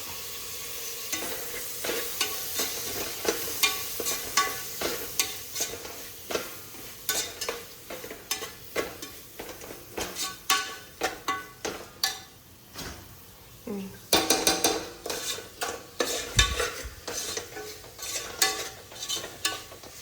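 Tomatoes frying in hot oil for a toor dal vegetable pulao, a constant sizzle broken by rapid scraping strokes of a spoon against the pan, close and busy throughout.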